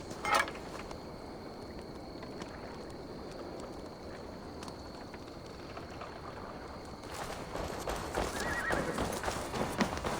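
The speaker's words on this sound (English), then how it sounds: "Now to deliver Magni his horse." Steady clip-clop of hooves with a horse neighing in the video game Assassin's Creed Valhalla, set against a continuous ambient background with no talking.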